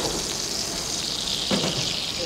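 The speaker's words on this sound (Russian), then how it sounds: "ну вот рыба, слышно, что она шипит" A 3.8 kg bream baked Asian-style in an oven at 180 degrees hisses and sizzles with a steady, close, bright crackle and one brief louder burst, with no talk.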